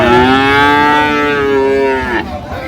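A Sahiwal breed calf at a cattle market gives one loud, drawn-out moo close by, ending abruptly into background market noise.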